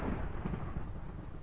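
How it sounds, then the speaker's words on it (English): Low rumbling thunder inside the Minecraft video game, a steady deep roll lasting the whole moment at moderate loudness with no talk over it. "what the hell is that thunder all about?"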